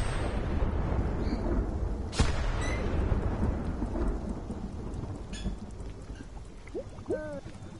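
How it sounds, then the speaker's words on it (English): Steady heavy rain with a sharp crack of thunder and rolling rumble in the Spiritfarer video game, a constant loud downpour throughout with a few faint tonal chimes near the end. "If it's raining, will it ever stop?"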